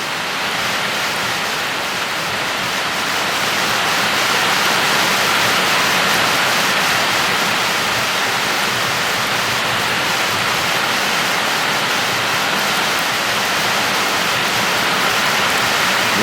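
A steady downpour from a brief, quick-moving storm hisses continuously, dense and fairly loud, with little change in intensity from start to finish.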